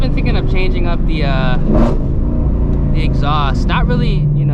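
A low, throaty engine note from a New Edge Mustang GT fitted with a Ford Borla exhaust rises and holds under a man's chatter inside the car, a continuous rumble with a brief surge near the middle.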